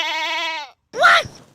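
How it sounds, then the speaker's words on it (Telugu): A young goat kid in a village classroom bleats twice, near and loud, a long wavering cry followed after a short pause by a shorter, harsher one. "ఈ క్లాస్ కు మేకప్ పిల్లని తీసుకొచ్చిందెవర్రా?"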